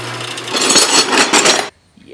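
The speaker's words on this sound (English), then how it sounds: "I'm going to drill a 2mm hole for an M2 because it's a clearance hole" A power drill bores a 2mm clearance hole for an M2 screw in a folding knife handle of purple heart wood and titanium, a loud steady whir for about a second and a half that stops abruptly.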